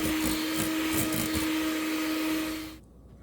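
Electric hand mixer whirring steadily at medium-high speed while combining cake batter ingredients for vanilla cupcakes, a constant motor hum that runs for nearly three seconds and then cuts off abruptly into quiet.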